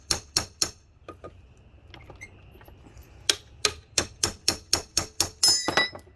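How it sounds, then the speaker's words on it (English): A hammer taps at a kayak's pedal drive arm to knock it loose, giving a steady series of sharp, close metallic knocks with a few quieter taps in a brief pause between runs. "take your hammer, a couple of small knots"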